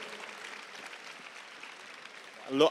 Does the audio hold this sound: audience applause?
yes